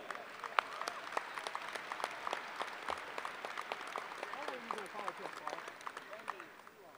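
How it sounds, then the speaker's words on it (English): Scattered, moderately sized applause at a university commencement ceremony, individual claps standing out, plus a few voices and whoops mixed in as it gradually thins. "would you please all give a round of applause for our college heads?"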